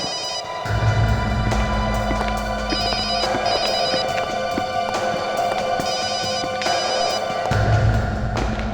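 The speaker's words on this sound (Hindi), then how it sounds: "फोन बज रही है।" A phone rings repeatedly with an electronic trilling tone, the pattern continuing steadily and fairly loud over a low hum.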